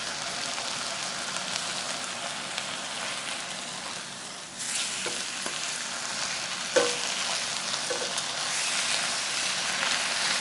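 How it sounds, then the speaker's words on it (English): Thinly sliced beef sizzles in a hot pan with a dense, continuous crackle and spit that gets busier midway through, marked by a few small pops and the odd clink, with no voices. "after we're done frying up all the meat"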